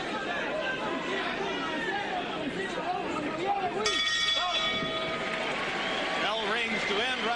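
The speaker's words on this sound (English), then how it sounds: "Bell rings to end round one." Boxing bell rings at the end of round one in a featherweight title fight between Naseem Hamed and Wilfredo Vázquez, with clear ringing tones mid-clip over steady arena crowd chatter.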